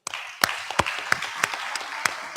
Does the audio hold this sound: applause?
yes